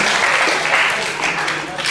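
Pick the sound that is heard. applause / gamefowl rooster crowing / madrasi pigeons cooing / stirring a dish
applause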